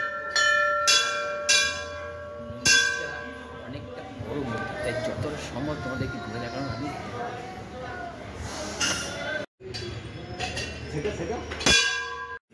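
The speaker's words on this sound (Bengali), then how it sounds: "আর এই মায়ের মন্দিরে আসলে ঘণ্টার ধ্বনি বাজাতে হয়" A temple bell rung at the Nistarini Kali temple in Seoraphuli: several loud metallic clangs at the start and more near the end, with a murmur of worshippers and footsteps between the strikes.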